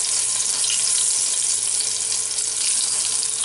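Flour-dusted eggplant slices frying in a hot pan of oil for Naples-style eggplant parmesan, a loud, dense, continuous sizzle with a faint steady hum beneath and no talking.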